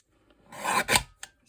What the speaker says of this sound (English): I'm going to trim a little bit off